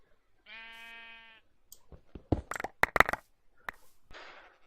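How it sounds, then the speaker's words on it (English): A sheep bleats in the Minecraft Hermitpack modpack, one drawn-out harmonic bleat at the start, followed by a scatter of sharp game clicks and block sounds with a short rustly burst near the end. "So there's a sheep still here."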